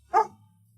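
A single short, close dog bark sounds once and is followed by near silence.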